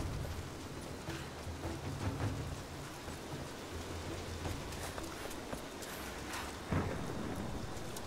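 Steady rain in the video game Rise of the Tomb Raider hisses as a broad, soft wash, with occasional low rumbles and scattered drip-like taps, fairly quiet throughout.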